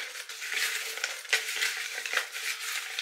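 Paper prize draw tickets shuffled inside a pot, a steady close rustling and scraping churn with a few sharper rattles through the few seconds.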